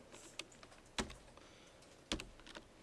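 Keystrokes on a computer keyboard during a computing fundamentals lecture: a few sparse, quiet taps with two louder, sharp clacks spaced about a second apart, close by and with no talking.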